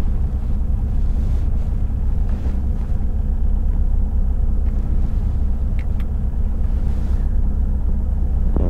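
A long line of traffic passes in both lanes of a road through a paused construction zone, heard from inside a truck as a continuous low rumble mixed with wind noise.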